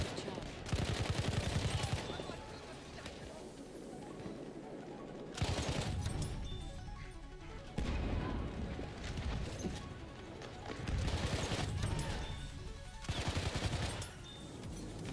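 Video game gunfire in Battlefield 1 multiplayer, repeated loud bursts of automatic fire with short pauses between them, mixed with battlefield noise and occasional faint voices.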